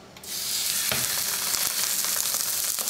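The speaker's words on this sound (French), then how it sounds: "Dans une poêle bien chaude, faites cuire le magret." Duck breast frying skin-side down in a very hot pan: a sudden loud sizzle that begins sharply and then holds a dense, steady crackle up close, with no voices.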